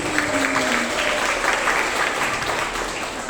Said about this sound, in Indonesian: Tepuk tangan yang meriah semua teman-teman